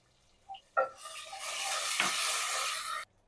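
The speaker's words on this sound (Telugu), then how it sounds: "పల్లీలు ఇలా కొద్దిగా వేయించుకోవాలి ఇప్పుడు దీంట్లోనే ఎండుమిరపకాయలను కూడా వేసేసుకున్నాను దీంట్లోనే కరివేపాకులు కూడా వేసేసుకోవాలి" Peanuts, dried red chillies and curry leaves dropped into hot oil for a tamarind-pepper rice tempering, giving a sudden loud sizzle that holds steady for about two seconds after a couple of soft clinks, close by.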